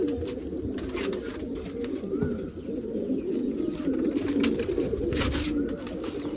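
Pigeons coo in a steady low murmur, with several overlapping throaty calls going on throughout, close by and fairly loud against a busy background.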